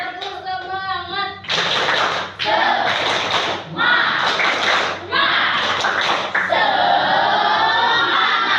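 Children in a class clap a rhythmic patterned cheer, with loud bursts of group clapping in timed sections separated by brief gaps. A voice speaks before the claps and chanting voices are heard among them.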